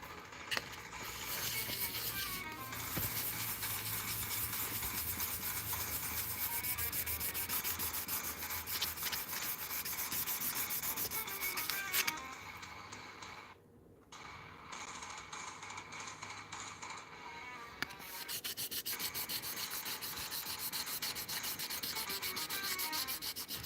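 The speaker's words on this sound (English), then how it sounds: "now we're polishing this one up. And trying to get rid of some of the scratches." Scratches being polished out by hand on a workbench: steady, close rubbing and sanding strokes that run continuously, with one brief pause midway and no speech.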